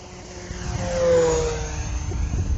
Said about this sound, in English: We'll do a speed pass with the wind from left to right.